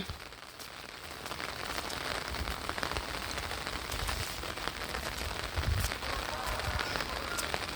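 Steady rain falls on surfaces nearby, a dense continuous patter with scattered louder drops throughout.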